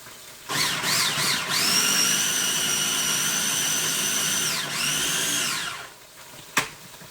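A food processor or blender whirs steadily while grinding a bright green herb mixture with olive oil and kosher salt; the motor runs loud and close for several seconds with a brief pitch dip, then spins down.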